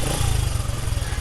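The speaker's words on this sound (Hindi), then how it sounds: "यहाँ से इसका आपने स्विच ऑन कर लेना है और किक से हम इसको स्टार्ट करेंगे।" Honda CD 70 motorcycle engine idling steadily just after a kick start, a close, continuous low thrum with a slight uneven pulse and no talk over it.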